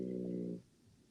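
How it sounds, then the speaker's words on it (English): A sleeping person gives one short, low snore, fairly close and clear, then it trails off into quiet room noise. "It was the cutest little snore."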